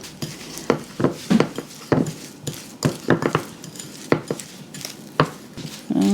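Brown sugar sweetener is worked into butter in a bowl to form a paste, giving irregular sharp scraping and tapping strokes of a utensil against the dish, close and clear with short pauses between bursts.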